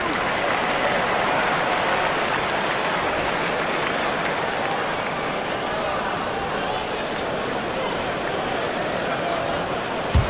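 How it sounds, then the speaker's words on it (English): A crowd cheers and applauds continuously in a PS5 basketball game between the Celtics and Hornets, a dense, loud, sustained roar filling the whole stretch. "listen to the crowd here. They know exactly how special this season has been"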